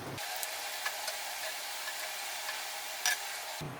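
Qeema samosas deep frying in hot oil, a steady, even sizzle and crackle throughout with a few brief louder pops, fairly close and with no voices.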